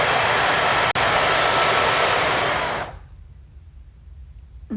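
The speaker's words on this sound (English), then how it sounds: "As you guys just heard, it is pretty loud, but that is kind of expected for a dust collector." A purple Kiara Sky nail dust collector runs on its second setting with a loud, steady broadband whoosh like a hair dryer, then quickly winds down and cuts off into near silence.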